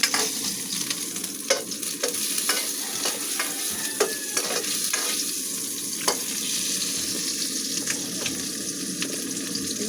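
Caldereta cooking in a pan: a continuous close sizzle with intermittent clicks and scrapes from stirring, steady in level throughout.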